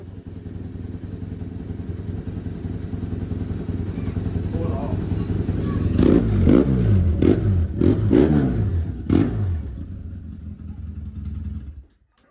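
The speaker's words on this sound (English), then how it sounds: "It sounds like a dirt bike." Dirt bike engine running nearby, a steady loud rumble that swells into sharper revving bursts and rattling clatter midway before cutting off abruptly, with talking over it.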